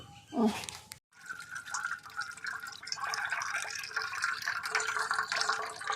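Water pours from a cracked coconut, spoiled and cloudy inside, with a soft trickling and dripping that runs steadily for several seconds after a brief voice and a sharp knock at the start.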